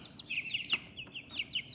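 Bantam chicks cheep in quick bursts of high, thin peeps, several close calls overlapping in irregular clusters over a quiet background.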